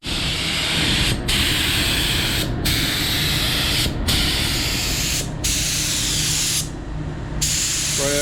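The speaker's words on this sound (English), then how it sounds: "we're gonna spray some light coats of this on here" Continuous loud hiss of aerosol primer spray on car interior parts, held in several long bursts with brief gaps between them, close by.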